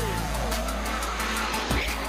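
A street race car revs hard and accelerates with tire squeal, a loud, continuous engine roar close by, rising in pitch near the end.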